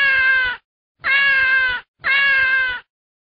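Three clear cat meows in a steady rhythm, each about half a second long, loud and close with short silences between.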